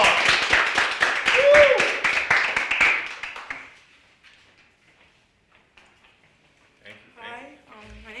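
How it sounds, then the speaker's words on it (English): A small audience at a youth leadership program session claps for about three seconds, with a cheer over the applause, before it fades into quiet and a voice begins speaking. "let's give her a round of applause"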